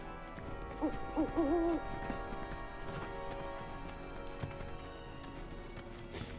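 Owl-like bird hoots from Final Fantasy VII Rebirth, a few short tonal calls early on over a busy game soundscape with music, trailing off into background ambience.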